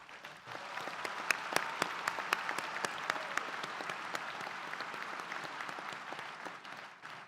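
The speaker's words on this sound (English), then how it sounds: "Now, let's give them another round of applause." A university School of Education commencement audience applauds its graduates in steady, sustained clapping. The sound is moderately distant, with a few sharper individual claps standing out early on, and it continues throughout.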